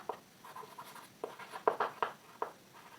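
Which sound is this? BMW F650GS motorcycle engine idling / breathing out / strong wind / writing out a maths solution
writing out a maths solution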